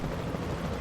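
Helicopter in the Jurassic World Evolution 2 video game, Arizona map: a steady, fairly faint rotor drone with a low rumbling wash, continuous with no talk over it.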